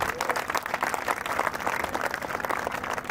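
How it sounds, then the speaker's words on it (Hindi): An audience at a school annual function and talent award ceremony claps briskly and continuously, a dense crowd of hands at moderate distance, with a faint voice underneath. "तो जोरदार रिम के लिए ताली बजाओ भाई।"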